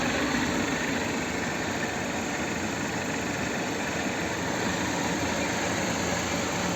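A 2015 Jeep Patriot 2.4-litre petrol engine with automatic transmission runs at a constant idle, a dense even drone with no change in pace and no voices.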